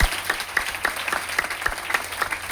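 A gathering at a motivational talk claps together in a lively but fairly soft round of applause, with distinct individual claps standing out against a hushed room tone.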